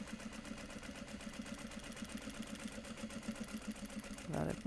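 A sewing machine stitches Japanese fabric close by, its needle pounding in a fast, even rhythm that runs steadily throughout, ending with a brief louder burst of handling noise.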